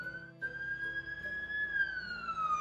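A single police car siren wails steadily, rising slightly and then falling away over a few seconds, fairly close and alone.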